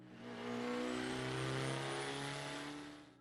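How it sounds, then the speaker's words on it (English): Detroit Diesel Series 71 two-stroke diesel engine with a Roots blower gives a loud, sustained howl with strong harmonics, swelling in and fading out over a few seconds, no voices. "The Detroit Diesel Series 71 didn't just run, it howled."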